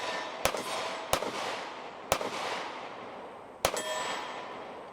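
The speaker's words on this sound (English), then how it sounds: "Here are the longer shots I was talking about, just on steel" Rifle shots ring off steel targets at long range: four sharp cracks spaced a second or more apart, each followed by a brief metallic clang over a steady outdoor hiss.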